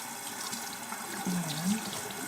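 A tap runs steadily into a sink while exfoliant is rinsed off a face, a close, even splash of water with faint shifts as hands move through the stream.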